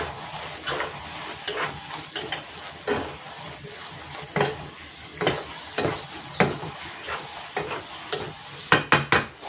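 Carrots and Baguio beans stir-fry in a hot pan for pancit bihon guisado, with a soft sizzle under repeated scraping strokes of a spatula that come in uneven bursts and quicken near the end.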